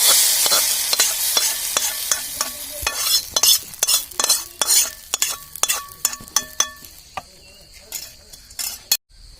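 Hot tempering for Kerala-style naadan sambar is poured into the pot, giving a burst of loud sizzling hiss that fades over several seconds, with scattered clinks and stirring taps of a utensil against the vessel.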